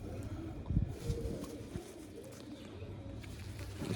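Pigeons kept in pairs for sale coo low and soft amid rustling and a few thumps and flutters close by, with no clear speech.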